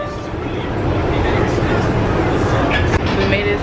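A subway train runs with a loud, steady rumble and rattle of wheels on track, close and continuous, with a brief clunk near the end and faint background voices.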